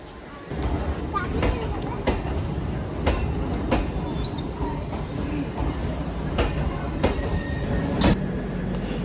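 A Godda–Sealdah MEMU passenger train rumbles past close by at Bolpur station, India, with a steady low roar and regular clickety-clack wheel beats over rail joints, while a voice talks over it.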